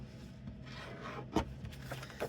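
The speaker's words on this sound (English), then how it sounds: "And now I'm going to fold this and burnish it a little." Folded paper card stock is burnished along its crease, giving soft dry rubbing strokes with a sharper scrape partway through, close and quiet.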